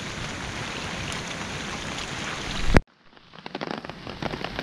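Heavy rain pours in a steady, loud hiss, then cuts off abruptly, leaving quieter patters and drips.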